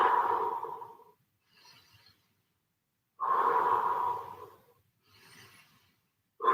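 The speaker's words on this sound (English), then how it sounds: "Deep breaths." Deep, slow breaths during a resistance-band and bell interval workout: two long, close exhalations, each followed by a softer, shorter breath, with no talking.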